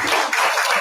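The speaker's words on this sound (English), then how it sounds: "If we could get a round of applause for somebody." Brief burst of clapping from a group at a wrestling hall of fame induction ceremony, steady and fairly loud, lasting under a second with no voices.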